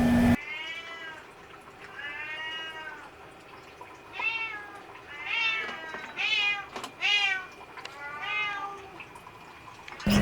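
Two half-sibling cats meow repeatedly indoors, a series of clear, close, drawn-out cries spaced through the stretch with short quiet gaps between them, with no talking.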